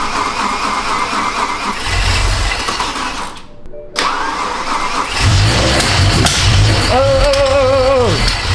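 BMW V10 engine running with its intake manifold removed, rough loud churning idle that cuts out briefly, then cranks and restarts with a rising rev and a wavering, surging note at the end.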